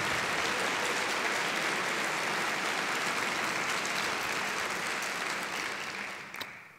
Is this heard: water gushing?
no